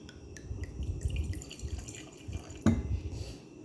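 Wine splashing and dripping into a glass as it is poured, a soft continuous liquid trickle with one sharper splash near the end, fairly quiet.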